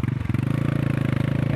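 A motorbike on a rough, bumpy mountain road, its mid-pitched engine chugging steadily with a fast rhythmic pulse and some rattling clatter, close and continuous throughout.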